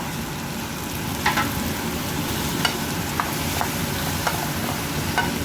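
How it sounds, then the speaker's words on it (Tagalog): Food sautéing in a frying pan for a home-cooked lunch, a steady low sizzle with occasional sharp pops and clinks of stirring, constant and close with no talking. "Ayan, gisa-gisa lang."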